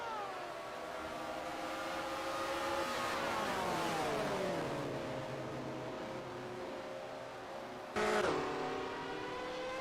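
1978 USAC race cars scream around the Bobby Ball Memorial track, a steady high engine drone with pitch sliding down as cars pass, then a sharp louder burst near the end.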